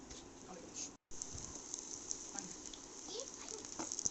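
Two whole dried chilies, garlic cloves and a bay leaf fry in mustard oil in a kadai, giving a steady, close crackling sizzle that cuts out for an instant near the start and then runs on evenly.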